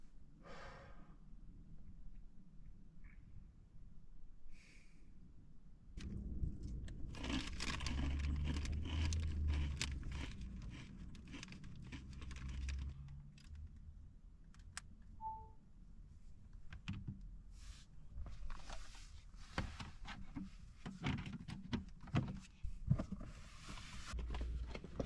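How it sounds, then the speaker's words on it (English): Light rain begins falling on a Zafira car camper parked in a peaceful village, a faint, soft patter of scattered drops and ticks on the roof that thickens after a few seconds, with no talking. "You might be able to hear it is starting to rain"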